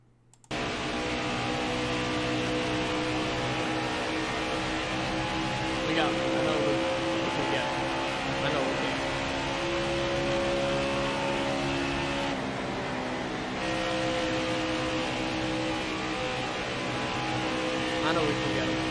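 Race trucks lapping in NASCAR Heat 5 at Charlotte, a steady loud engine drone with shifting pitch and occasional whooshes of passing traffic, continuous throughout.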